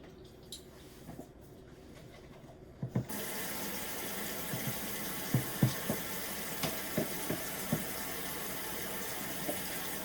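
Water runs from a tap into a cooking pot of stew or soup, a steady close splashing fill with a few knocks and clinks of the pot.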